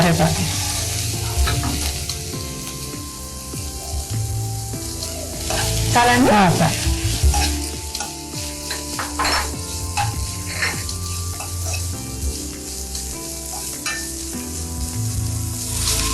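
Papad rolls deep frying in oil crackle and sizzle loudly and continuously, with stirring and occasional clinks of utensils against the pan.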